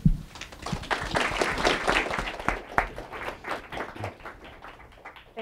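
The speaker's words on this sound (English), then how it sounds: "I hope you'll join me in enjoying this panel and in welcoming them here with a round of applause" An audience claps to welcome a panel at a school choice discussion in Washington, DC, with dense applause that swells quickly and then thins into scattered individual claps as it fades out.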